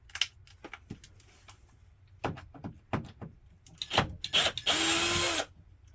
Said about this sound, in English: we're going to remove the screws and the hinges